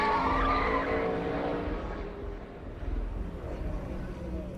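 A race car skids at Kansas Speedway and slams hard into the inside wall. A loud tire-scrubbing rush opens, then fades into a lower rumble with a few scattered bumps, and no voices are heard.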